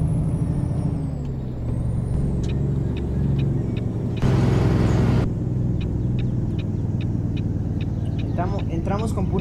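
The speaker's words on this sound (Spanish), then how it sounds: "Entramos con puro freno motor." An International Lonestar tractor-trailer engine braking on a descent through tight curves, a steady loud rumbling drone with a brief louder burst midway and sharp clicks toward the end, with voices talking over it.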